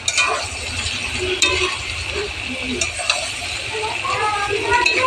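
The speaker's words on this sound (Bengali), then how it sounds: "আলুগুলোকে কিন্তু বেশি ভালো করে ভেজে নিতে হবে" Potato pieces for aloo posto frying in a pan with tomato sauce, a loud continuous sizzle with occasional utensil knocks and stirring scrapes, close and steady throughout.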